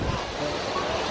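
Strong ocean waves break on Station 2 beach in Boracay during rainy weather, making a steady, loud roar of surf with no clear pauses.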